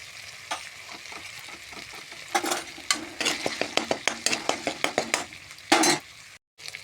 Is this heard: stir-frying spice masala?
yes